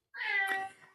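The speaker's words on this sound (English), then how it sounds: "Oh, that's my cat" A cat lets out one clear, drawn-out meow close by, with a faint trailing tail after it, and no other sound around it.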